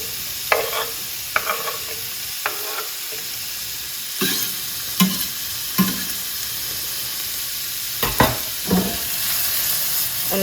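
Onion and green pepper sautéing in a hot pan, a steady sizzle broken by repeated scraping stirs at irregular intervals, close and clear with no voices.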